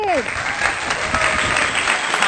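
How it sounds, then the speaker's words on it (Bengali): A group of people clap together in steady, dense applause at a close distance, with a voice briefly heard at the start and crowd murmur underneath throughout. "মাইমার জন্য সবাই করতালি"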